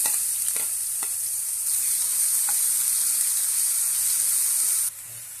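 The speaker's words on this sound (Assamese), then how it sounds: "ফ্ৰাই কৰি আছোঁ, অলপ কালাৰ হোৱালৈকে" Spices with ginger, garlic and onion paste sizzle steadily in hot oil in a pan while a fish curry is cooked, with a continuous close frying hiss and a few faint scrapes, and no talking.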